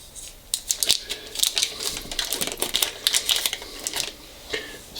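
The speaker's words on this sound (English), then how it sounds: "So I'm going to unwrap our butter." A block of butter is unwrapped in a kitchen, its paper crinkling and rustling in quick, irregular bursts, close and fairly crisp, with no talking.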